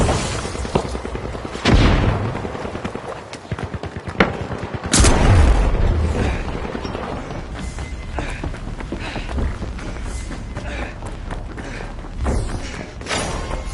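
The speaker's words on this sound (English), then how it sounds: "Frag out! Frag grenade out!" Frag grenade going off in a video game firefight: a loud booming blast near five seconds and an earlier thump near two, set among dense gunfire, running footsteps and other game noise, with no talk.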